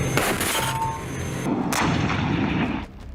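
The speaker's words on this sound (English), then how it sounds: "The Russian tanks open fire from a distance, their cannons unleashing shells one by one." Russian tank cannons fire shells from a distance: heavy booming blasts with metallic ringing and a long rumbling decay, recorded from far off with no voices.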